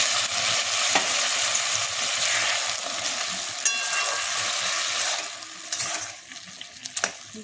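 Melted jaggery simmering with jujube pickle in a pan, giving a steady, fairly loud hissing bubble with faint scraping and a few small knocks near the end, with no voices.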